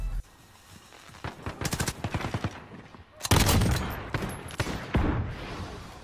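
A sentry gun firing in Call of Duty Modern Warfare, heard as rapid bursts of automatic gunfire, loud and close, in two clusters with a brief quieter gap between.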